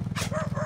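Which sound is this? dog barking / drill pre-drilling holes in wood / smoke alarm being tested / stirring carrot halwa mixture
dog barking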